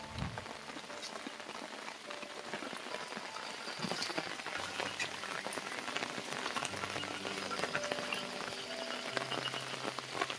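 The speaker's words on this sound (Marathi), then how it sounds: "पाऊस पण थोडा थोडा पडतोय." Light rain falls steadily outdoors near farm fields during crab catching, a faint, even patter of drops with no voices.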